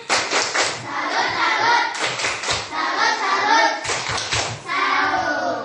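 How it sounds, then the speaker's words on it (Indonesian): A class of children claps a rhythmic salute together in a classroom, loud, even patterned hand claps repeating steadily throughout. "Tepuk salut dulu buat semua kelompok."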